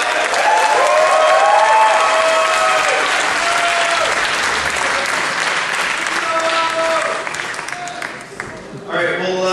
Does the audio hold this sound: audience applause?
yes